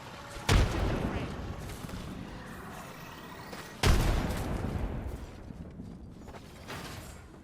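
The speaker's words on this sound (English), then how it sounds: "Chucking a frag. Chucking a frag." A frag grenade going off in a shooter video game, two separate loud blasts a few seconds apart, each with a sharp onset and a rumbling tail, with faint talk in the background.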